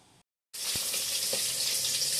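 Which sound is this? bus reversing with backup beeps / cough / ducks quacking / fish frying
fish frying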